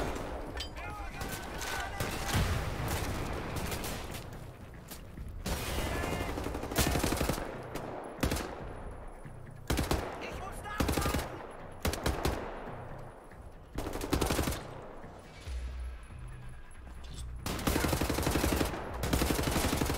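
Gunfire in Wolfenstein The New Order, a PC shooter, arrives in repeated loud bursts of rapid automatic shots separated by short pauses. Someone talks between the volleys.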